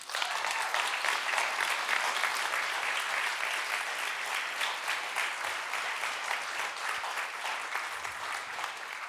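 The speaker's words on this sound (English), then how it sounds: "Let's give him another round of applause" A tech talk audience applauds in sustained, dense clapping that holds steady and fairly loud throughout, fading only slightly toward the end.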